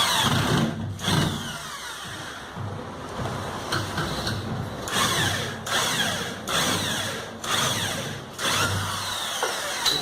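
Cordless drill driving screws into a drywall ceiling panel, a whirring motor in repeated short bursts with pauses between them, close and moderately loud, with no talk.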